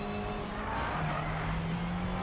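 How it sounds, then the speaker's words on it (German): A car in the Need for Speed 2015 video game, driven at full throttle with nitro boost: a steady loud engine roar with a rising tone and a hint of tire squeal, continuous and close, with no talking. "Und jetzt geben wir schon wieder Gas. Vollgas mit Nitro."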